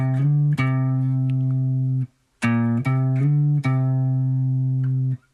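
A guitar plays a riff as sustained single notes. Slides shift the pitch between notes in a short repeating phrase with a brief gap in the middle.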